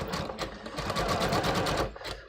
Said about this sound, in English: So I'm going to go ahead and stitch here.